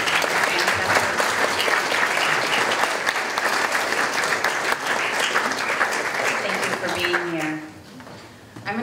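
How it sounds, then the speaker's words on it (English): Loud, sustained audience applause honoring descendants of US boarding school survivors, dense clapping throughout that thins out near the end as a voice comes in. "Let's get a round of applause to honor them and their relatives"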